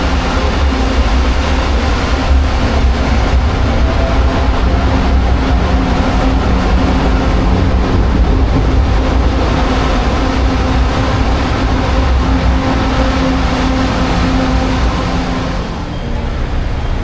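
An LRT2 light rail train near Recto Station in Manila, a steady, loud rumbling roar with constant street traffic mixed in and no talk.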